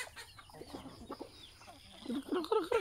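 Free-range pasture-raised heritage chickens feeding, with soft low clucks at a moderate distance that grow louder and busier toward the end over a murmur of background noise.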